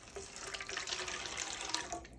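Liquid pours steadily into a pan while cooking shrimp scampi, a soft continuous splashing stream with no talking over it.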